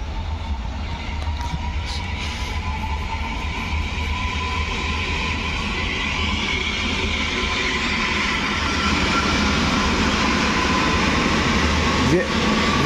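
Polish train pulling away from Łowicz Główny station on a hot day, a sustained rail rumble and rising hum that grows slightly louder as it departs, with a faint high whine running through it.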